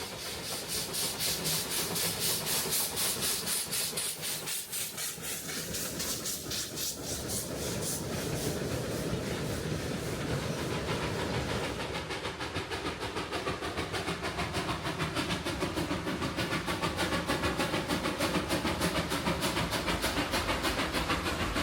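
Puffing Billy steam locomotive 6A, hauling a load test train from Belgrave to Gembrook, chuffs in a rapid, steady rhythm, loud and close, with hissing steam and rumbling wheels throughout.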